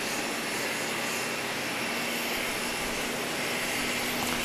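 A 45-year-old Twin Otter aircraft at Grand Cayman airport, its engine and propeller noise a continuous broadband roar with a steady hum, constant in loudness and fairly close.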